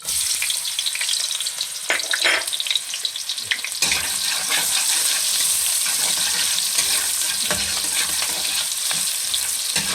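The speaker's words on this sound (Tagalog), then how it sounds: "pagsabay na natin tong sibuyas tsaka bawang" Onion and garlic hit hot turmeric-tinted cooking oil and sauté in a loud, continuous crackling sizzle for a sweet and sour fish dish, with scraping stirs and clatters breaking in now and then, and no talking.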